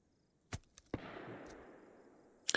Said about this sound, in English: But did you hear that gunshot?